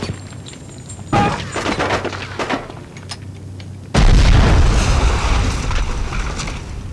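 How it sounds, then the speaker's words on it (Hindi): A grenade explodes in the PS2 first-person shooter Cold Winter: a sudden loud, broad blast that rumbles on for several seconds, after scattered sharp gunfire pops. "वो ग्रेनेड फेंका फिर से"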